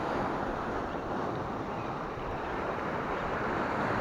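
Stormy sea waves crash against rocks along the coast at Mersin, a continuous loud, close roar of surf mixed with gusting wind noise.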